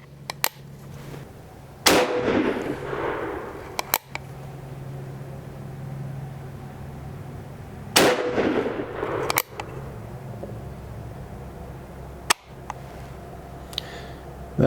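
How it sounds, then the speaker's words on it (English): Uberti replica of a Remington revolving carbine fired at a target: three sharp, loud gunshots spaced several seconds apart, each with a short ringing tail, plus faint clicks between them and no talk. "I'm going to go ahead and give it 3 shots at the center target on there"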